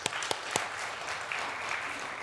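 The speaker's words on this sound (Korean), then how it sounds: "우리 정태진 목사님 나오셔서 말씀 전해주실 때 여러분 은혜 많이 받으시고 박수 한번 보내겠습니다." A congregation at a church prayer service applauds steadily, with a few sharp, louder claps standing out near the start.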